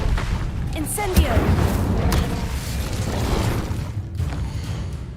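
The Incendio fire spell is cast in the game Hogwarts Legacy, with a burst of whooshing flame and crackling, booming impacts over a noisy battle bed, while a person talks over the action.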